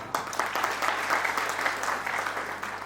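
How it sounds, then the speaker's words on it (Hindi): Audience applause at a Hindi-language income-qualification event, steady dense clapping from a crowd throughout, fairly loud and continuous with no speech over it. "फिर आप लोग तालियां कैसे बजा रहे हैं?"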